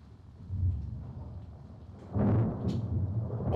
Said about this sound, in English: Boy, it's stormy.